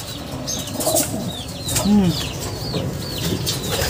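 Racing pigeons back from a derby race lap flutter and flap their wings after landing while soft cooing and clucking carry through. The wingbeats come in short bursts over a few seconds, close by, with someone speaking quietly.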